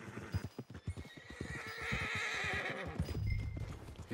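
A horse in Red Dead Redemption 2 lets out a loud, drawn-out whinny over a rhythmic clip-clop of hooves, heard up close with no talking.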